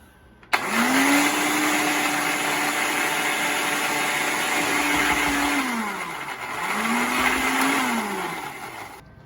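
A blender purees freshly grated tomato paste with a loud, steady motor whine that starts suddenly, holds, dips briefly, then winds back up before fading. No voices.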